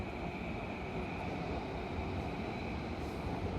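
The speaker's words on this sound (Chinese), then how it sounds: "站在这里看着列车按时进站，又准点离开。" Steady low rumble of a train at Ueno Station in Tokyo, a continuous rolling drone with a faint high whine held at an even level throughout, with no voices.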